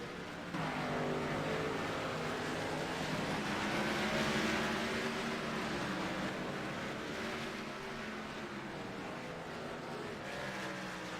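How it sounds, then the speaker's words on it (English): Race cars at Iowa Speedway roll off the grid for qualifying, a loud, steady engine roar with rising and falling pitch sweeps that hold through the whole stretch. "Cars rolling off the field now."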